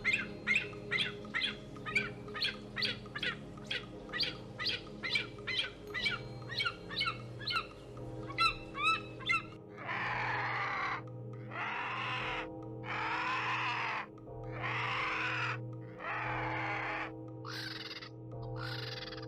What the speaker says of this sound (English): Then came the vultures.